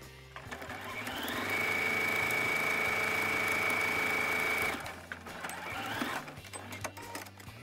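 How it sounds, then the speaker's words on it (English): A sewing machine stitching one side of fabric pieces together for a cosplay costume, a close, steady motor whir that runs for about three seconds, then stops with faint handling noises. "Now all I have to do is sew one side together."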